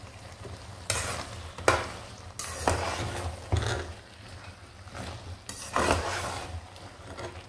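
Lots of tomatoes fry in a pan with a steady sizzle, broken by several scraping stirs that come in bursts and swell louder each time, heard up close with no talking.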